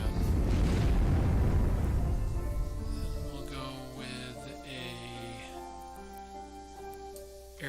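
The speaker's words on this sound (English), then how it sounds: "Let's go with a bombing raid on the HQ" A bombing raid in the KARDS card game sets off a loud, rumbling explosion that booms and then decays, followed by softer layered tonal game effects fading out.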